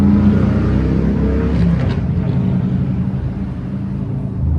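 A car passes by as a loud, steady low engine and road rumble that holds for several seconds and eases slightly toward the end, with no voices over it.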